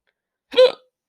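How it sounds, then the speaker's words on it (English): A single sharp hiccup, close and alone, one brief voiced catch with silence on either side. "Oh, hot hiccups."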